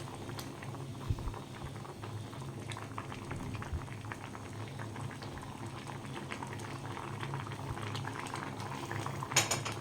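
Vegetables for moong posto bubble in a pot with a continuous, close boiling patter that stays fairly even in loudness from start to finish.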